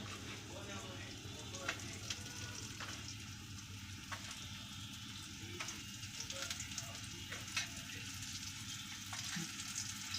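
Pieces of bitter gourd (karela) fry in oil, placed one at a time, with the spiced side turned down first. A dense, continuous sizzle goes on throughout at low level, with faint occasional stirring ticks and no voices.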